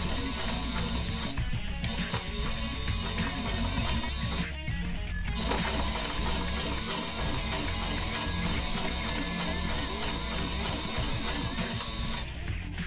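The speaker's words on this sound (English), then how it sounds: "I'm going to do a few stitches and then I'm going to back stitch and then stitch again." Sewing machine stitching fabric, a few stitches, a backstitch and more stitching, running steadily and close with one brief pause, no voices.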